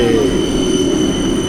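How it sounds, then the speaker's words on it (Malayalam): A tram runs through a city in Finland, a loud, steady rumble of rolling wheels with faint high squealing tones above it, sustained and close as if heard from onboard. "വലിയ തിരക്കില്ലാത്ത ട്രാം കിട്ടി ഗൈസ്."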